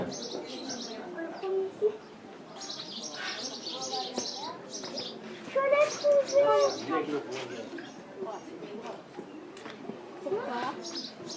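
Small birds chirp and tweet on and off in the background while people talk nearby.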